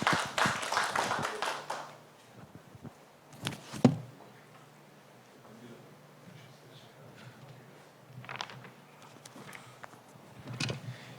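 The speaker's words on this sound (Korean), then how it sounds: "박수로 맞이해 주십시오." Brief burst of audience clapping at an academic conference session on Earth jurisprudence, dense at first and then fading within about two seconds, followed by scattered thumps and room noise.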